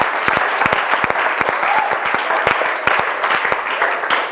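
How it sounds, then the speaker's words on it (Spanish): An audience at a Bible institute class claps in steady, dense applause for the third-year group, with sharp individual claps standing out near the listener throughout. "Así que ese aplauso es para ustedes también"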